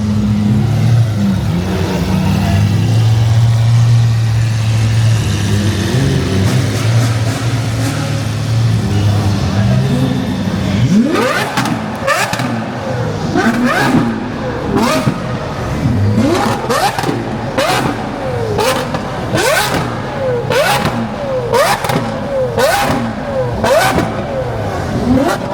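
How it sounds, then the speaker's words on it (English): Lamborghini engine at a midnight car meet in Miami, revving hard in repeated sharp bursts that rise and fall, loud and close, with people talking and crowd noise throughout. "Do you think the Lamborghini's gonna rev?"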